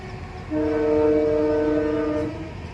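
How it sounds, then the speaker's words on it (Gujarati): A train sounds its horn while passing near a railway station beside a papaya farm: one sustained, loud, tonal blast lasting about two seconds over a low rolling rumble. "પાછળ રેલવે પણ આવી રહી છે અહીંયા રેલવે સ્ટેશન છે બાજુમાં"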